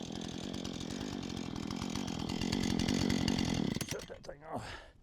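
A Stihl 500 chainsaw runs loud and steady at high speed for about four seconds, then cuts off abruptly and winds down into a few faint sputters and rattles.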